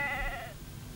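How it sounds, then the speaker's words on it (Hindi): A sheep being herded down a hillside lets out one wavering bleat lasting about half a second, fairly close and clear, followed by quiet outdoor background. "ये हमारी भेड़ पहाड़ के नीचे हाँक रहा था"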